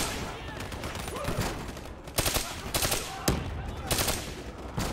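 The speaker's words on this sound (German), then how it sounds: "ich schieße auf alles, was rot ist" Black Ops 3 campaign gunfire, rapid bursts of automatic weapon fire in several volleys, loud and close, with game effects and a voice underneath.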